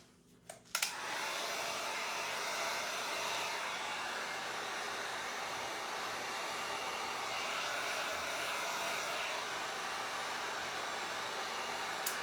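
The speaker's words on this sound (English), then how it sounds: "hopefully you can hear me over this heat gun" A heat gun blows steadily and loudly at close range while heating an Iflex wood embellishment on a furniture makeover, a constant rushing hiss with no one talking.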